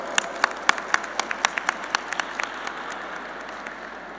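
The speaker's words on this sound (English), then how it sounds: "A round of applause for Dr. Bhatt, please." Applause from an audience at a naturopathy day celebration, heard as a short run of scattered claps that is fairly close and thins out quickly, with no talk over it.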